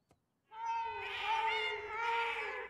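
Drawn-out cat meowing in a Spanish-dubbed American Dad cartoon, a single long wavering yowl heard clearly on its own after a short tap.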